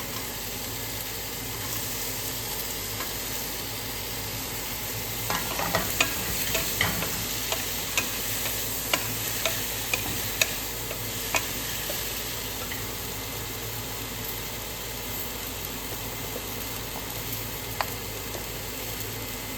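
Bitter gourd and onion frying in a pan for kaakara kaya pulusu, a steady sizzle under scattered clicks and scrapes of stirring, heard without talk.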